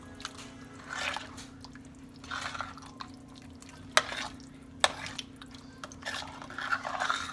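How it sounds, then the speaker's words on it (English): A spoon stirs a thick meat-and-bean chili in a pot, giving soft scraping and wet shuffling strokes with a few sharp clinks against the pot, quiet and close with no talk. "And so I'm going to give this a stir"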